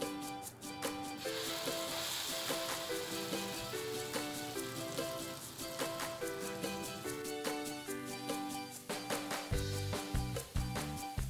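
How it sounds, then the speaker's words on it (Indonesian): Spice paste sizzles and hisses in hot oil in a pan, a steady, dense frying crackle that runs the whole time beneath fairly loud background music. "Nah sekarang kita akan tumis bumbu halusnya"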